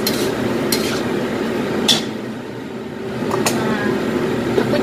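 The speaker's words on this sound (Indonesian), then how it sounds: "Oke, setelah itu kita tumis lagi ya guys." Nien Kao ingredients with mushroom stock are stir-fried in a pan with a steady close sizzle and spatula scraping. A few sharper clinks of utensil on pan cut through the frying.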